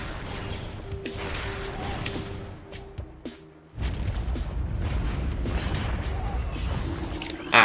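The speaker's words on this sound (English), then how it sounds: "Just got to take care of these pillars. Yes, this does take a lot of missiles," Missiles hit pillars in Metroid Prime: a series of sharp thuds and cracks, followed by a heavy, sustained rumbling crash, with voices faintly beneath.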